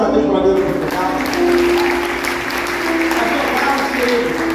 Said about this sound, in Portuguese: Uma salva de palmas a Deus para a vida do pastor Carlos.